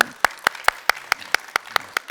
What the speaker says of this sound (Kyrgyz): туугандар Анвар менен Анвардын келчегине бир катыраак кол чаап коелучу